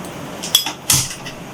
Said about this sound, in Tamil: ஒரு வாண்டியை வச்சு அதில் எண்ணெய் கொஞ்சம் ஊற்றி 100 எண்ணெய் ஊற்றி காய விடணும்.